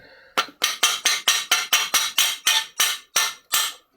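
Metal hammer tapping on a splined antique hoist part, eleven sharp, evenly spaced ringing strikes in close succession, loud and near with nothing else over them.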